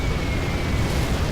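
Carpet bomber and artillery barrage detonations in C&C Generals Zero Hour strategy game, a dense, continuous rumbling wash of overlapping booms filling the whole moment with no gaps.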